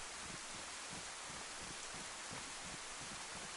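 Steady rainfall in the survival game DayZ, a dense, even hiss of drops with soft patter underneath, continuous and fairly quiet with no voices.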